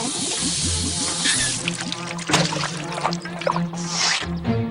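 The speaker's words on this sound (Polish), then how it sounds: "Ktoś butelkuje wodę" Water runs and drips into a container, a wet splashing trickle with a gurgling fill, close by.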